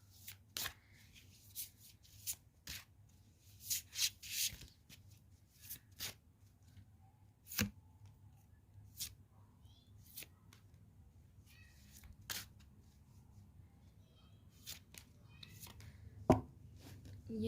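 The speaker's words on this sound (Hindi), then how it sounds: "देखो कार्ड्स है ना, बार बार शफल कर रही हूँ, बार बार नीचे गिर रहे हैं।" Tarot cards being shuffled by hand during a reading, a sparse run of soft riffles and sharp taps scattered across a quiet room, with some cards slipping and falling, close and faint.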